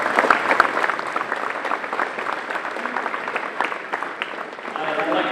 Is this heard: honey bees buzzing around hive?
no